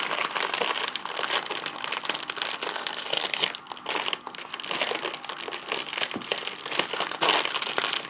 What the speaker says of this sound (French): Je l'ai mis dans le sachet Ziploc. Donc, je le déplie.